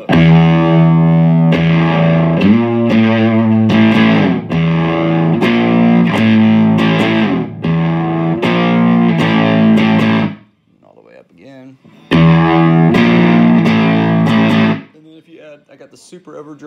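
Electric guitar played through a 1970s Foxx Power Machine booster/overdrive set with low drive and treble-leaning tone, strummed chords ringing loud and sustained for about ten seconds, a short gap of quieter picking, then another burst of chords.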